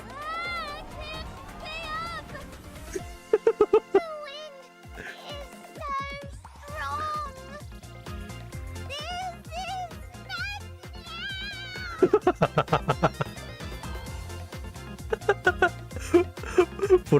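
A cat meowing in a video game, several short high mews scattered over game music and sound effects, with voices talking over parts of it.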